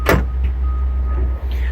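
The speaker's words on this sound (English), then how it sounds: "Door closes good though." A car door on a 1979 Chevrolet Caprice Classic in a junkyard shuts with one sharp, close thud, followed by a low steady hum.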